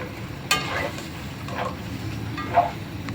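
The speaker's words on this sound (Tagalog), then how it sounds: "Okay, haluin natin." Ginataan kalabasa with ikan bilis being stirred in a pot, with soft scraping sweeps at intervals over a faint low simmer, quiet and close.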